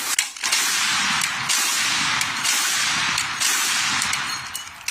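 A military weapon fired by a Ukrainian National Guard crew lets off loud, sustained bursts of automatic fire, several long volleys broken by brief pauses, close and harsh.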